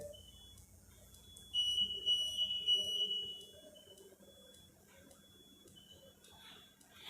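Alarm tone from a CO2 insufflator machine: a faint, thin electronic beep held for a couple of seconds, then shorter fainter tones over a quiet room hum.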